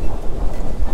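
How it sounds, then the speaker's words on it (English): Steady wind buffeting the microphone on a walk in Waikiki, Hawaii, a loud low rumble with gusty swells throughout and no voices. "Sorry about the wind. It's a windy day."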